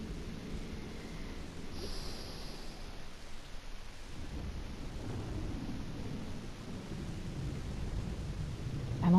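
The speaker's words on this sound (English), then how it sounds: "Thunder rumbles in the distance." Low distant thunder rumbling faintly under steady rain-like hiss in the horror visual novel game Death Mark, a soft continuous roll with a brief brighter swell near the start.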